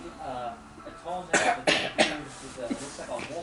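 Three harsh, raspy coughs in quick succession break up a stretch of quiet murmuring speech.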